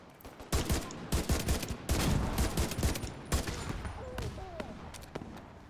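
Gunfire between factions in The Division 2 crackles in rapid bursts and volleys, loud and dense through the first half, then thins into scattered shots and softer distant pops.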